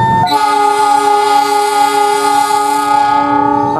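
A double-traction locomotive pair at the head of a long 15-carriage passenger train near Bangil sounds a loud, sustained multi-tone horn blast. The chord rings steadily for several seconds, close by, and then fades slightly at the end.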